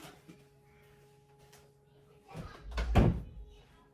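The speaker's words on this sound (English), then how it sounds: "I'm going to have to close my door" An indoor door pushed shut with a loud, close thud and rattle near the end, after a stretch of quiet room noise and faint voices.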